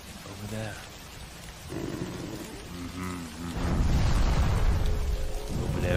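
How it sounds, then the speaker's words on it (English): Video game rain hisses as a broad steady wash that swells louder partway through, with a deep rumbling roar beneath, while people talk over it. "That's a good rain effect."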